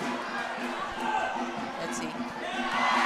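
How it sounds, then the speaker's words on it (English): Crowd murmur at a women's league football final between Kaya FC-Iloilo and Manila Digger FC, a low steady chatter of spectators rising slightly, with a commentator speaking over it. "The Kaya crowd in anticipation"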